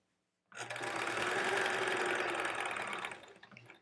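A sewing machine stitches quilt fabric, starting abruptly after a brief silence and running as a steady close mechanical whir and rapid needle patter for about three seconds before slowing off.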